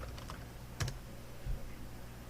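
Keys clack on a computer keyboard as a restart command is entered, a few scattered taps with two heavier key strikes, close and quiet with no talk.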